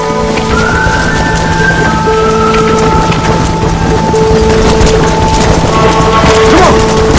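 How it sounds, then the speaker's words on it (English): A heavy rainstorm with thunder in the video game Red Dead Redemption: dense, steady rain pours close by while low thunder rumbles and booms roll underneath throughout. "The weather changes fast out here. This storm came out of nowhere."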